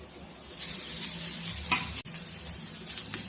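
Fried soya chunks and boiled rice are stirred together in a hot pan, a steady close sizzle with a few scraping strokes and a brief dropout partway through, and no voices.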